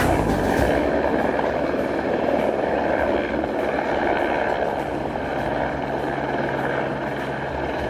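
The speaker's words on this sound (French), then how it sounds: "l'hélicoptère qui transporte ravitaillement et évacue un blessé, titube et vacille" Helicopter flying over the high mountains of the Khumbu region in Nepal while carrying supplies and evacuating an injured person, a steady broadband rotor and engine drone that stays loud and continuous throughout.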